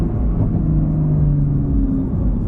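Nissan GT-R R35 sports car driving hard with a loud, steady engine rumble and whirring drone heard from inside the cabin, no talking.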